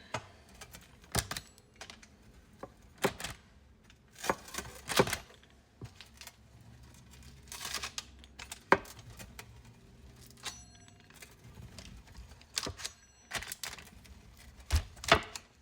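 A blade lightly scoring sourdough discard cracker dough, producing quick irregular clicking taps in scattered clusters, close and crisp over a quiet room.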